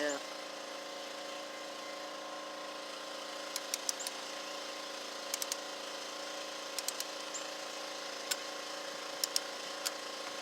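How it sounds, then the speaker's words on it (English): A torque wrench tightens the cylinder head bolts on a Kawasaki FH580V engine, giving several short, sharp clicks spaced a second or two apart over a quiet steady hum, with faint talk. "You can hear it click when it hits the 10."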